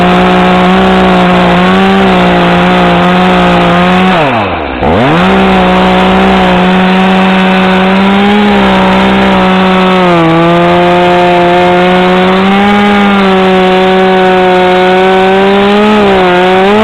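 A chainsaw runs steadily at high revs, loud and close, with a brief dip in pitch as it bites into a log, then roars on without talk.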